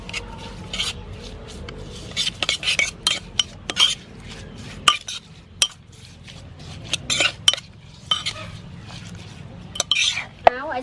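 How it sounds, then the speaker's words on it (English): A utensil stirs and scrapes oyster sauce and chili sauce together in a dish, with repeated clinks and rubbing strokes in an irregular rhythm, close and fairly loud. "oyster sauce, chili sauce. Blend it together."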